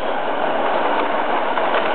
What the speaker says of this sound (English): As you can see, the train runs fine.